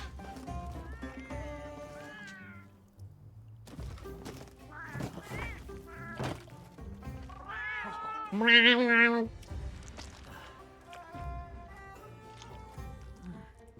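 In Monster Hunter Wilds, small cat-like creatures meow amid game sounds that include loud whinnying calls and clopping hoofbeats, with bursts rising and falling over roughly fourteen seconds.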